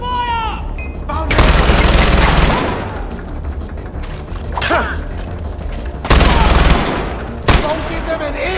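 Gunfire in the video game Far Cry 4: several loud bursts of automatic fire and sharp shots, close and punchy, spaced across the scene with shouted voices between them.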